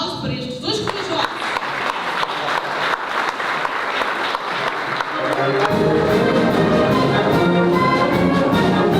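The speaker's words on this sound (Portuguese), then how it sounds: "quero um aplauso para estes 2 corajosos" At a cultural soirée celebrating the Recreio dos Lavradores anniversary, an audience applauds two brave volunteers. Sparse claps swell into dense, loud, sustained applause, with voices mixed in at the start.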